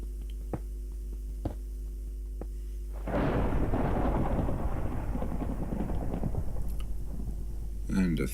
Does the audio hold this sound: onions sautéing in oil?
no